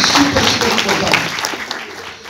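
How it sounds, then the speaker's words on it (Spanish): Audience applause at a business talk on prospecting, a continuous mass of clapping that fades slightly toward the end, with some voices mixed into the crowd. "un fuerte aplauso para él, por favor"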